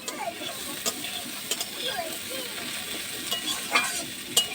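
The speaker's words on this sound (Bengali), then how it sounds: "পাঁচ ফোড়নটা ফুটতে শুরু করেছে" Panch phoron five-spice seeds crackle and splutter in hot oil, giving a close, steady sizzle broken by sharp little pops and ticks, with no voices over it.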